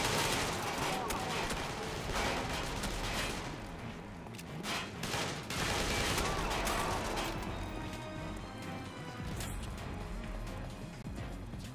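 Gunfire aimed at the player in the Mindjack video game, with sustained crackling bursts and impacts running throughout over a dense, busy mix that includes talk.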